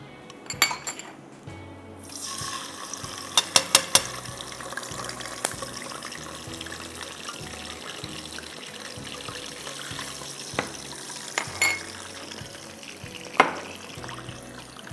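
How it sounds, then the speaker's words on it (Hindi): Ginger garlic paste and a little water added to whole spices frying in a pot, with sizzling throughout and several sharp metallic clinks of utensils against the pan, close and steady for the whole stretch. "इसके बाद हम इसमें डालेंगे बादियान के गरम मसाले के बाद अदरक लहसुन का पेस्ट और थोड़ा सा पानी।"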